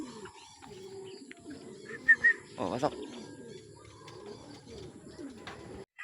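Racing pigeons coo softly and repeatedly nearby at a training toss in San Jose del Monte, Bulacan, with low rolling calls and a few fluttering sounds, while someone speaks briefly.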